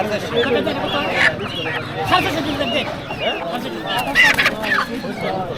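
Native village chickens cluck and squawk at a rural poultry market, close and busy, with someone talking over them throughout.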